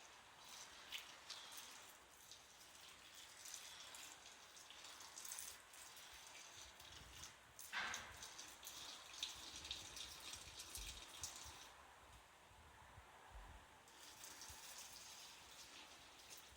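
One liter of water poured onto 0.40 millimeter peat moss makes a soft, steady patter and trickle, faint and close, continuing without break and with no voices.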